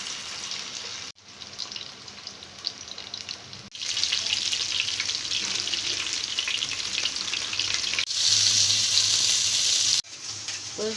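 Fish fries on a tawa with a loud, dense sizzle that shifts in intensity as pieces are moved, broken by a few brief cuts, growing brightest and fiercest toward the end.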